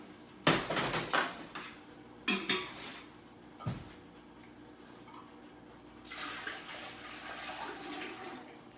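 Goat milk poured into a pot, sounding as splashy liquid bursts: a few short gushes early on, then a longer, steadier stream of pouring near the end, fairly close and quiet.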